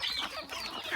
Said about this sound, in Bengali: মুরগিগুলো খাওয়ার জন্য খুব তাড়াহুড়া করতেছে